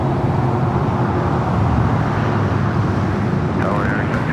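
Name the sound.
airliner from JFK at LAX airport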